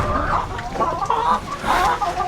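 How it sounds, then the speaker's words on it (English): Chickens and roosters in a coop cluck and squawk in repeated close bursts, with farm background noise around them. "I brought the extra 2 roosters in from"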